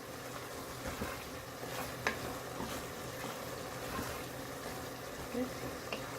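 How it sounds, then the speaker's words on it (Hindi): Dhaba-style mash daal with garam masala and green chillies being stirred in a pot, giving a steady, moderately loud sizzling bubble with soft scraping strokes throughout, no talking. "गरम मसाले के साथ हम अपनी हरी मिर्चें भी इसमें ऐड कर लेंगे। अच्छे से मिक्स कर लें।"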